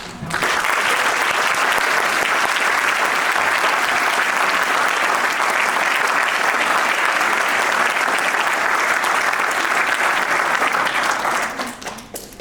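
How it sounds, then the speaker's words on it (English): Audience at a school winter concert gives a long, loud, sustained round of applause for the eighth graders, a thick, even roar of many hands lasting over ten seconds before tapering off at the end. "so I'd like to give them a special round of applause"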